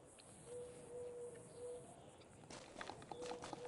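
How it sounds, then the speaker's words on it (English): An owl hoots softly several times in the GTA Online countryside near Dalton, low steady calls over a quiet ambient bed with faint footsteps and bird chirps around it. "Oh, it's the owl."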